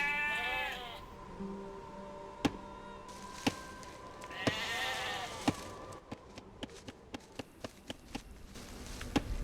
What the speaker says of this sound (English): Now select the sheep by holding D-pad right, then move them to the town center.